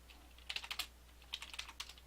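Keys tapped on a computer keyboard in two short bursts of quick, light clicks, close and clear over a faint steady hum, with no voices.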